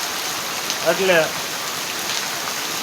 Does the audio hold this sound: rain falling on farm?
yes